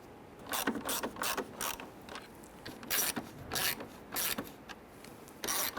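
A ratchet driving four screws across the top of a broken header panel on a 1999–2004 Jeep Grand Cherokee: repeated bursts of quick ratcheting clicks, fairly quiet and close, each stroke series separated by brief pauses, with no talk.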